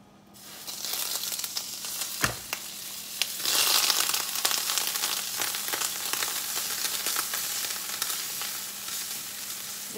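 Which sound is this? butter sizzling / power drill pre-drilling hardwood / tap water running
butter sizzling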